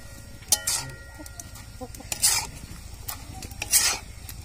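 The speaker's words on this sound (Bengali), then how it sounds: "এবার একটু নেড়ে নেবো।" Spinach stirred in a cooking pan gives soft moist rustling and scraping under a faint sizzle, with three sharp clattering strokes against the pan spaced about every 1.5 seconds.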